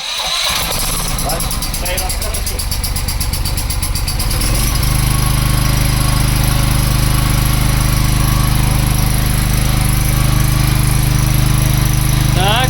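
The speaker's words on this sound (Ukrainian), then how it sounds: "Зникла мережа, немає світла, запускаємо через генератор." A portable generator used for backup power during an outage cranks with rapid uneven chugging, then catches and runs at a loud, steady engine drone close by.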